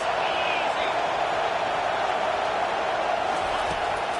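A dense, steady roar of a college football stadium crowd at an NC State versus Michigan game, holding at a constant loud level for the whole stretch with no clear breaks.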